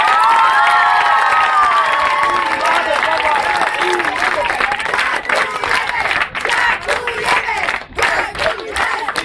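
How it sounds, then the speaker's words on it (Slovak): A crowd at a boys' youth football league awards ceremony claps and cheers loudly for the losing teams, dense applause with shouts, thinning toward the end. "Poprosím, aby ste týmto chlapcom ešte raz vo veľkom zatleskali."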